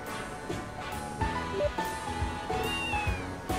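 Cat meowing in the video game Trails to Azure, a few short tonal meows over steady game music, fairly clear and close with no talking.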